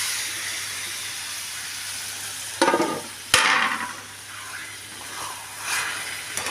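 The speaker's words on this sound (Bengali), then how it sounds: "লোটে মাছটা দিয়ে হালকা করে জাস্ট আমি মশলার সাথে মাছগুলোকে মাখিয়ে নিচ্ছি" Lote fish mixed into a frying masala gives a continuous close hiss and sizzle, broken by a couple of louder stirring scrapes partway through, with no speech.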